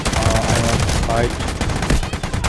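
Gunfire in the Delta Force video game: dense, rapid automatic bursts crackling loudly throughout, with game voices and chatter mixed underneath.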